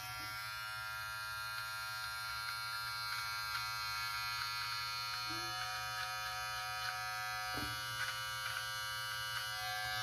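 Yabife beard trimmer running steadily up close, a constant electric buzz with dense harmonics, holding even throughout with a couple of faint clicks.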